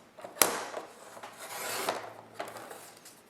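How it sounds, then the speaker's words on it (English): Cutter trimming the edges of a tarot card: a sharp snap, then a soft dry rasp of the blade running along the card stock, with a few lighter scrapes after it, close and quiet. "And I'll go back and trim up this last little bit here."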